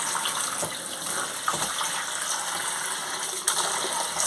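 A running tap gushes steadily over tie-dyed fabric being rinsed in a sink, close and fairly loud, with a few soft knocks and splashes as the cloth is handled and no talking.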